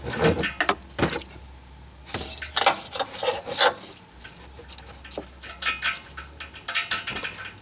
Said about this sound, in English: you just have to break the sensor free, and it should just spin out